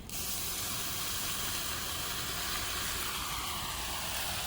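Water poured into hot spice paste with turmeric and salt in a pan bursts into a loud, steady sizzling hiss that holds constant for several seconds.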